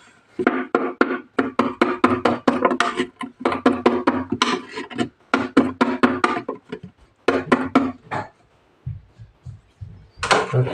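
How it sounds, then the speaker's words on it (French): Rapid, repeated tapping on cardboard boxes holding a Camponotus ant nest, in quick bursts, hollow knocks with short pauses between runs, close and fairly loud. "tapoter un peu les boîtes"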